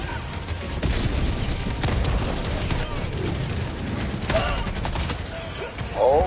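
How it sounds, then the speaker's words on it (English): Grenade blast and gunfire in Helldivers 2: dense, continuous rattling gunfire with sharp bursts throughout, a louder explosive hit near the end, with voices talking over the battle. "Watch a grenade."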